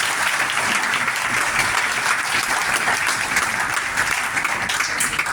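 Sustained audience applause fills a seminar hall in Jhunjhunu for a guest teacher, a dense, steady clapping wash that stays loud and even throughout without a break.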